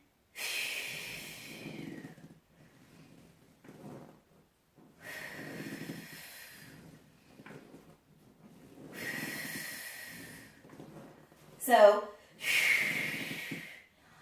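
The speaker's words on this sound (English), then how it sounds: "Here's what the breathing sounds like." Slow, deliberate exercise breathing in long audible breaths with pauses between, one sharper quick exhale near the end; a voice briefly speaks.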